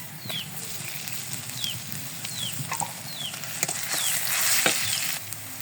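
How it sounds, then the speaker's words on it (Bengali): Chopped onions frying in oil with chilies and garlic in a pan, a continuous close sizzle with crackles and small pops, growing slightly louder toward the end. "হাফ কাপ পেঁয়াজ কুচি এটা আমি বাদামি কালার করে নিব"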